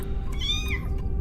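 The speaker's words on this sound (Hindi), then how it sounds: "आवाज बिल्ली की थी" A cat meows in a short, wavering cry over a steady low hum, used as an eerie sound effect in a night-shift haunted office horror story.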